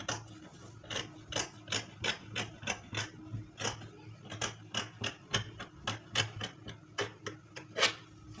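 Scissors cut out a fabric sleeve piece on a work surface, producing a steady series of crisp, close snipping strokes at an even rhythm, each with a short rasping scrape, and no talk.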